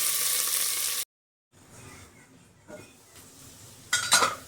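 Onions frying in hot oil with whole spices for a chicken biryani, a bright sizzle that cuts out briefly, then returns softer with light scraping and a closing burst of clinks and crackle, close up.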